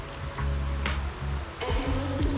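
Rain falls in the Zenless Zone Zero video game, a steady patter on surfaces under low, sustained musical tones that shift and pulse throughout, with no voices.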